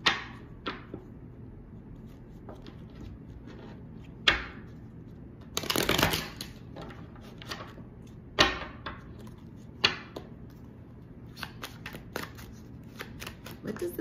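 A Rebel tarot deck being shuffled: intermittent riffles and sharp card snaps come in short bursts over about fourteen seconds, with one longer shuffle in the middle, while a person talks in the background.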